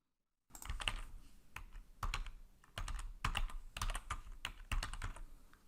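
Fingers type on a computer keyboard in short bursts of quick, close clicks separated by brief pauses, with no other sound around them.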